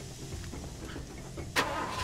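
Truck engine in Far Cry 2 idling at a low rumble, broken by one sharp bright burst near the end.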